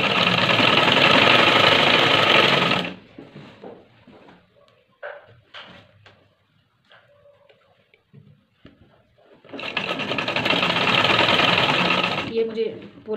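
An electric sewing machine stitching net skirt fabric runs in two loud, close, steady whirring bursts of a few seconds each, separated by quieter handling noises; someone speaks in between.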